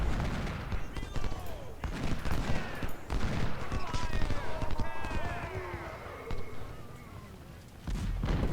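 Rifle volley fire in Ultimate General: Civil War at the Battle of Shiloh: dense crackling musketry and scattered gunshots spread across a busy battlefield bed with horse hooves and shouts, a voice speaking over it.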